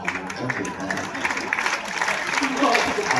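An audience at a Kavi Sammelan poetry recital at IIT Roorkee claps lightly in scattered applause beneath a speaker talking continuously in a large hall.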